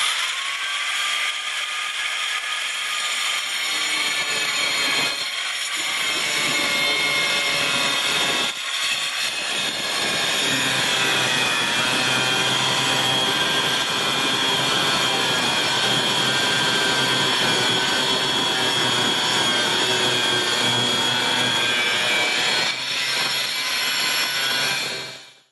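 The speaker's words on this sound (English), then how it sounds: "we're using a 4-inch right angle grinder, and we're going to cut across that line." A 4-inch right-angle grinder cuts across a shower panel during a shower remodel, a continuous loud, high-pitched whine that keeps going for about 25 seconds and cuts off at the end.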